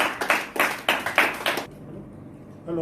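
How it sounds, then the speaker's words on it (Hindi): Applause greeting a new SDM at a farewell and felicitation ceremony in Bilaspur: a room of people claps in several strong rhythmic bursts that stop abruptly, followed by a moment of quiet and the start of a voice. "सीख एक बार जोरदार तालियों से हम सब स्वागत करें हमारे नए एसडीएम साहब"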